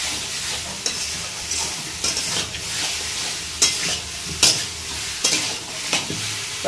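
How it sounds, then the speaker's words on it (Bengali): Spices for Bengali fish kalia fry and sizzle in a pan under steady stirring, a dense close hiss broken by regular scraping strokes of the spoon, with no voices over it. "মশলা কষানো হচ্ছে"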